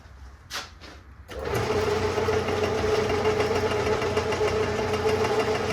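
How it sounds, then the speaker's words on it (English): A newly acquired metal lathe starts after a couple of brief knocks and then runs steadily with a sustained mechanical whir and hum while truing an inner cut on a welded part for a small homemade 4x4 Jeep, close and fairly loud. "we're going to use the new lathe that I picked up yesterday"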